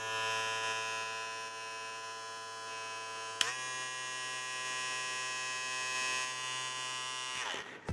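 A Kemei 1667 hair clipper runs at its first speed, giving a steady, close electric buzz with a rich harmonic whine that holds even throughout, with a brief click midway and a shift as it stops at the end.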